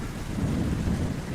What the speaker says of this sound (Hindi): बारिश थोड़ी कम हो जाती है